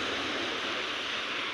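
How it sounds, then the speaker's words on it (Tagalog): Big sea waves roll steadily near a fishing boat's shore, giving a dense, continuous surf roar with no clear breaks. "Ang lalaki pa rin ng alon."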